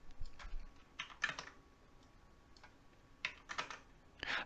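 Code typed on a computer keyboard in short bursts of close, crisp key clicks separated by quiet pauses, with no voices.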